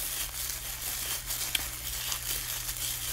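Steady soft crinkling of plastic-bag yarn being wound into a ball close up, with a few sharper crackles over a low constant hum.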